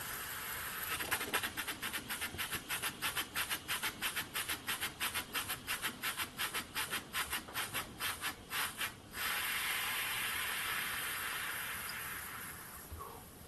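A small model steam engine driving a generator chuffs in quick, even puffs for several seconds, then settles into a steady, continuous hiss of escaping steam, close by.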